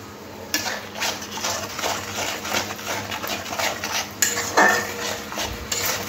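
Spice paste with ground coriander, cumin, a little sugar and water is stirred in a pan for chital fish, repeated metal spoon scrapes and clinks against the pan with faint sizzling, close and steady.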